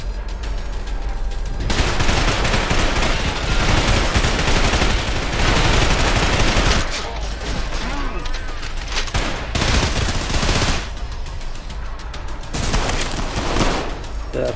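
Rapid gunfire in the fast first-person shooter Trepang2: loud, dense automatic bursts and heavy shots crackle in waves, with short lulls between volleys and a voice occasionally speaking over the combat.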